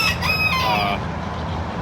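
A rooster crows loudly and close by in a pen of roosters, a short strained call over a background of other birds clucking.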